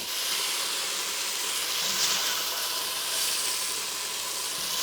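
Meat browning and searing in a hot pan, a steady even sizzle that holds at a moderate level throughout with no talking.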